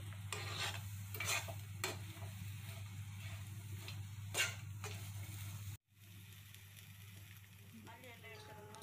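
Whole spices (cinnamon, cloves, fennel) with chilli and garlic fry in a pan for a masala chicken dish, giving a steady low sizzle with a few sharp stirring scrapes throughout and a brief break near the end.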